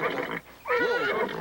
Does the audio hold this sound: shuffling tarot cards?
no